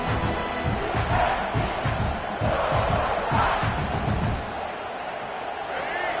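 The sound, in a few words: stadium crowd cheering at a football game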